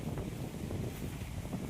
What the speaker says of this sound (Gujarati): આ અગ્નિકુણામાંથી પવન વાય છે